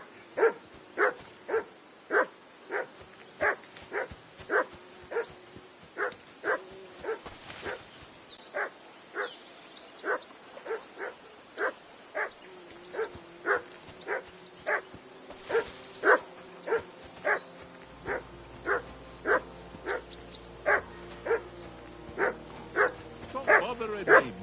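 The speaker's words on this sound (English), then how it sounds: "Call off that mutt of yours!" A dog in a video game barks over and over in a steady, evenly spaced rhythm, fairly close and clear, while characters talk now and then beneath it.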